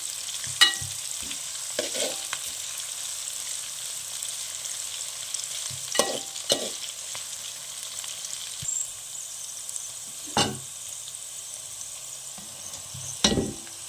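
Ginger and garlic fry in a pan for a pineapple pickle, giving a soft continuous sizzle broken by several sharp scrapes and clinks of stirring, close by, with no voices.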